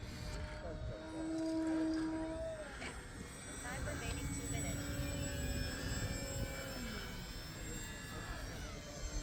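A QQ Yak 55 model airplane flies aerobatics at an AMA flying field, its engine a thin, distant buzz that swells and bends in pitch as it climbs and turns, while someone talks over it.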